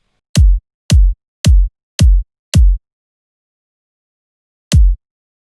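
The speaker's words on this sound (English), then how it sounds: "I could put a kick on each" Five punchy, deep kick drum hits land on an even beat, then a pause and one more lone kick, dry and close with nothing else playing.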